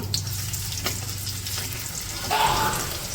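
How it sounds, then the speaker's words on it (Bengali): Chopped onions and green chilies fry in hot oil in a pan for noodles, a steady close sizzle with stirring scrapes and a louder burst of crackle partway through. "পেঁয়াজ কাঁচামরিচ দিয়ে দিলাম, হালকা ভাইজে নিই"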